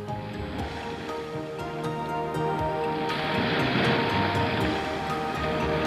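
Sea waves along the coast of Santorini, a steady broad wash of surf that swells louder halfway through and keeps rolling, distant and continuous, with no voices.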